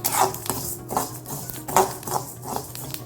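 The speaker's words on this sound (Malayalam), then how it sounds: "നമ്മൾ അരി നല്ലോണം വറുത്തിട്ടുണ്ട്. ഇത് കണ്ട ഒരു പൊട്ടുന്ന ശബ്ദം കേൾക്കാം." Rice dry-roasting in a pan is stirred in repeated scraping strokes, grains rattling and clinking against the metal in an uneven rhythm, close and fairly quiet, with no voices.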